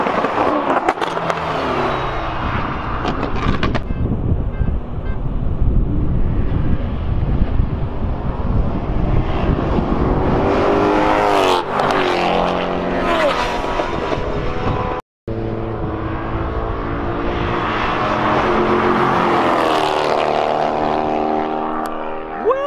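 A Mercedes CLS and an E63 race through a canyon on a Fourth of July run, engines roaring loud and continuous with rising and falling revs, wind buffeting the microphone, and a brief cut near the middle.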